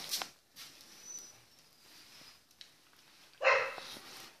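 A small dog gives a few faint, scattered yips, then one louder sharp bark near the end, in a quiet indoor room.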